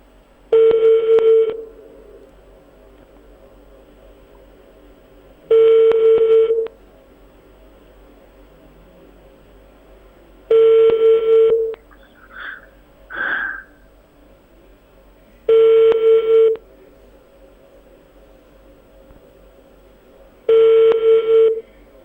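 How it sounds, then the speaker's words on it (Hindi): Repeated ringback tone of an outgoing phone call to an airline office, five evenly spaced one-second rings about five seconds apart, clear and steady with faint noise between rings and no talk. "दोबारा बेल जारी है, जरा सुनिए नाजरीन"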